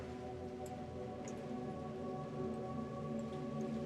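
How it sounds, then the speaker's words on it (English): Rain falls steadily with scattered light drops, a soft continuous hiss under faint background hum, no voices during the stretch. "Oh my god, it's raining."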